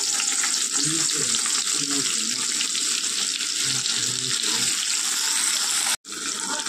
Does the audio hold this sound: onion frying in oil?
yes